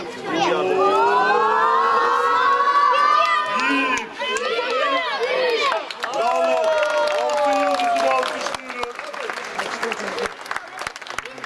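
A crowd applauds and cheers at a children's tournament trophy ceremony, with sustained clapping under loud excited shouting and voices, plus a whistle-like tone, thinning toward the end.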